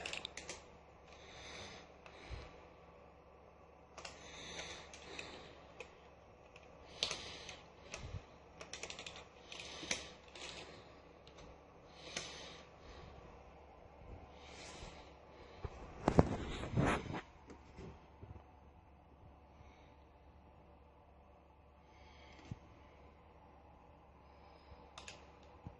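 Keys clack on an old desktop PC's keyboard in irregular bursts of taps, close and fairly faint, with a louder mechanical clunk near the middle and quieter tapping trailing off.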